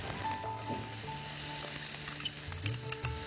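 Boiled rice tipped into a pan of soya pulao and stirred, a steady close sizzle of frying with soft scraping from mixing throughout, no voices.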